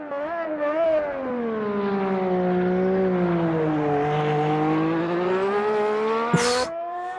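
A racing car engine in the sim racing game Automobilista 2 howls steadily at high revs, pitch sliding down and back up through gear changes, ending with a sharp burst of noise.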